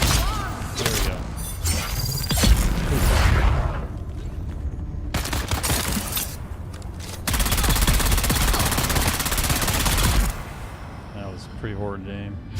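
Gunfire fills a firefight in the video game Dune Awakening: loud rapid bursts of automatic fire in several long stretches, with shattering and mechanical clanks, while a player talks over it.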